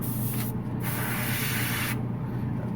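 An airbrush sprays paint onto a model kit part, a soft continuous hissing rush of air that briefly cuts out twice, close and steady with no talk.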